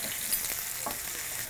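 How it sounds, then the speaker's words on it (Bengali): Chopped onion drops into a pan of frying chili and garlic, bringing up a loud, even sizzle with brief stirring scrapes and no voices. "মরিচ ভাজার একটা ঘ্রাণ বেরিয়েছে, রসুনের একটা ঘ্রাণ বেরিয়েছে, তার সাথে আমরা পেঁয়াজ দিয়ে দিলাম।"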